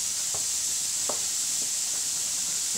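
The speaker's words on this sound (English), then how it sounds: "Give our macaroni another stir around." Dry macaroni stirred in a hot pan for a mac and cheese, with a few soft scraping strokes over a steady loud sizzling hiss.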